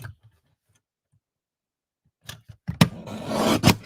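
After near silence, scissors snip and rasp through paper being trimmed for a floral card, with a couple of short cuts and then a longer continuous scraping cut close by.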